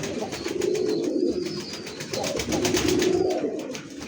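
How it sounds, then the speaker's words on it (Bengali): A Gobinda Koka pigeon coos close by, repeated throaty rolling calls in two long phrases with a short break, loud and alone. "এটা হচ্ছে গোবিন্দ কোকা, প্রচুর ডাকে দেখেন"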